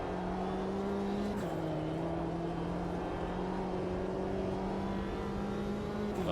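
A JCW Mini Cooper race car engine in the racing game Automobilista 2 drones steadily at high revs, with a brief gear change partway through, heard from inside the car under wind and road noise.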